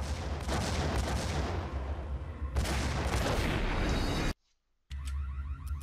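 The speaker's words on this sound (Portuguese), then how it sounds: "vou usar a sniper" Gunfire from a sniper rifle in the Max Payne video game, loud and sustained with dense overlapping blasts, a sudden brief silence near the end, then more shooting resuming.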